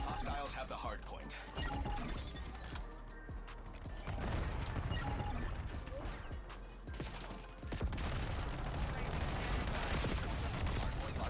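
Gunfire in the game Black Ops 7 during a Hardpoint match: bursts of automatic fire and impacts crackle continuously at moderate level under dense game noise.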